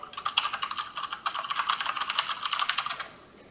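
Rapid typing on a computer keyboard, a quick flurry of light clicking keystrokes in uneven bursts for about three seconds, fairly close and alone before it stops.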